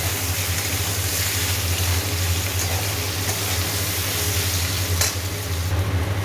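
Onion with chili frying in a home-kitchen pan gives a steady, loud, close sizzle that runs unbroken, with faint stirring and a single scrape near the end; no one speaks.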